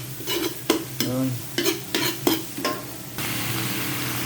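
Sautéing in a pan until brown before mussels are added for tinolang tahong, a loud crackling sizzle broken by several quick stirring scrapes, then a steady hiss alone.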